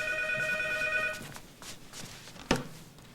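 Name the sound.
telephone ringing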